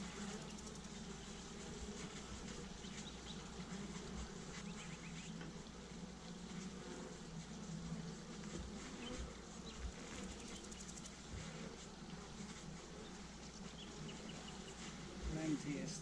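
Honey bees buzz steadily around an open hive during a summer hive check, a continuous mid-level drone with a faint voice murmuring underneath.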